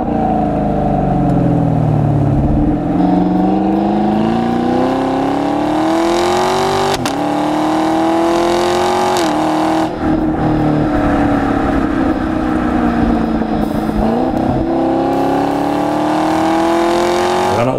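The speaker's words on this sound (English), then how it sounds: "The factory exhaust, when you get that MPP option, it crackles and rumbles and does all kinds of stuff" A Camaro's direct-injected 6.2 liter V8 with the factory NPP exhaust revs loud and close, its rumbling pitch climbing and falling repeatedly over a sustained run with no talk.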